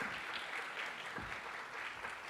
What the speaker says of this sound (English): Let's give Bonnie a big round of applause.